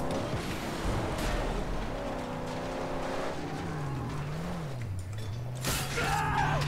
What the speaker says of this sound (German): Machen wir die Autos einfach kaputt.